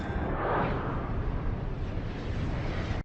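A deep, rumbling movie explosion from Star Trek VI: The Undiscovered Country (1991) rolls on for about three seconds, heavy in the low end, then cuts off abruptly.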